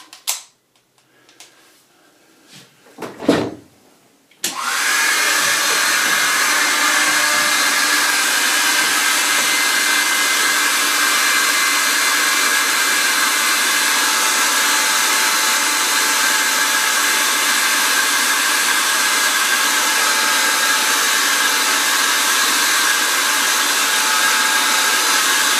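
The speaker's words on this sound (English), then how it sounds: "I'll just drying it up a little bit with the hairdryer" A hair dryer, used to dry paint on a painting, switches on after a few seconds of faint handling noise and blows steadily and loudly, a constant broadband whoosh that continues to the end.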